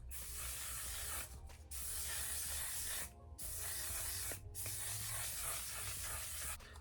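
Several quick bursts of makeup setting spray mist hiss out in close succession, each a few seconds long with short pauses between, soft and close.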